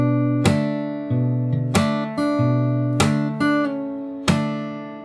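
Fingerstyle guitar plays a passage of a jazz standard, with ringing plucked chords and bass notes struck in a slow, spaced rhythm, some with a slap, heard close and moderately soft.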